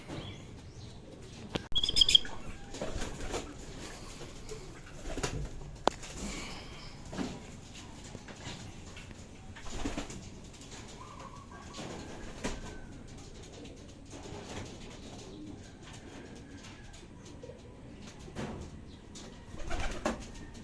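Pigeons coo softly at a distance, with occasional chirps and a few brief wing flaps; quiet background throughout.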